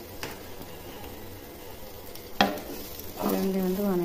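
Pirandai, the adamant creeper, sautés in oil with a quiet, steady sizzle. One sharp clack of a utensil cuts in near the middle, and a louder burst of frying and stirring comes toward the end.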